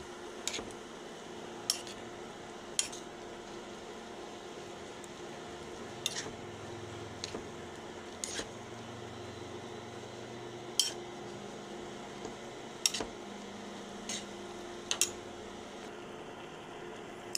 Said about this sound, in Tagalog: Haluin natin mga idol, haluin.